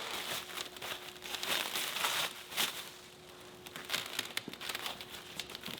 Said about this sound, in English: So many fun things to unwrap.